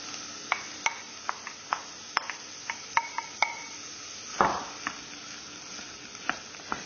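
Onions frying in a pan on a home cooking show, a soft steady sizzle broken by a series of crisp spoon taps and stirring scrapes against the pan, fairly quiet with no talk.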